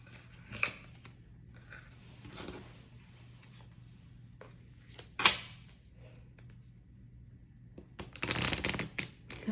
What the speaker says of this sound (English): let me get some shadow cards for this situation